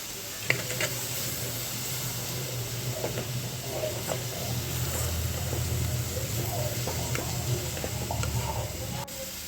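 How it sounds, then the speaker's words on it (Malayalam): Chopped star fruit, green chilli, salt and turmeric stirred in coconut oil produce a soft, steady sizzle with scattered light scrapes and taps, some faint background hum underneath. "നമ്മളൊരു തുള്ളി വെളിച്ചെണ്ണ ഒഴിച്ചതിനകത്തോട്ട് നമ്മൾ ഈ സ്റ്റാർ ഫ്രൂട്ടും അരിഞ്ഞ പച്ചമുളകും അല്പം ഉപ്പും മഞ്ഞളും കൂടെ ചേർത്ത് നന്നായിട്ട് ഇളക്കി കൊടുക്കുകയാണ്"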